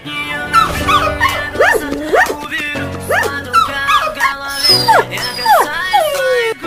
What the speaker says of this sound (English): What a cute dog.